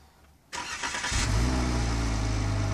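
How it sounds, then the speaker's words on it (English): A Jeep Cherokee Trailhawk started by remote start cranks briefly after a quiet moment, then fires and settles into a loud, steady engine idle heard close by. "you've also got remote start, and I have to say it works pretty well."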